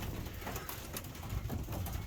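Racing pigeons coo in a loft at feeding time, a soft continuous murmur of many birds close by with scattered wing flutters and light rustling throughout.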